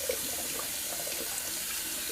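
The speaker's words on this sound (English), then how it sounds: "I'll give this Dscosmetics brush just a quick rinse." A shaving brush gets a quick rinse under a running tap, a steady, soft hiss of flowing water splashing into a sink throughout.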